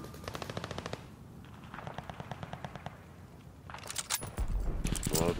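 Rapid automatic gunfire from a video game firefight, fired in several close bursts, with a louder, denser burst of shots near the end.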